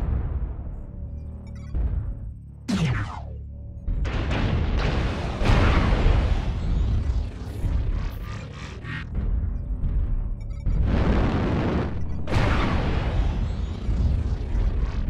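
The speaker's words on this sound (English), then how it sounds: "Airstrike activated." Airstrike explosions in a canyon map of a video game, a rapid chain of loud, close booms and rumbling blasts that overlap almost continuously, with one sharp swooping whistle early on.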